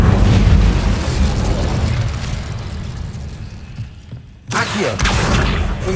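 A fiery Incendio spell explosion from the video game Hogwarts Legacy booms loud and broad at the start, rumbles and fades away, and then a second burst of fire erupts near the end.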